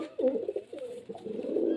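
A pigeon at a bird sale in Beldanga gives a short run of close, throaty coos in quick succession, clear and alone.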